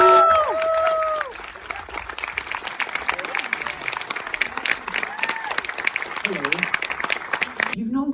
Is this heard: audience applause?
yes